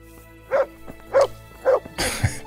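In the video game Kingdom Come: Deliverance, a dog barks three times at a horse at an even pace, short sharp woofs, followed by a brief rustling clatter.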